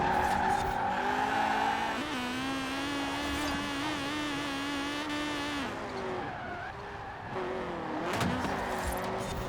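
A race car in Forza Horizon 4 accelerates down a straightaway, its engine droning steadily at high revs with pitch rising and dipping through gear changes and a brief tire squeal, loud and continuous with no talk.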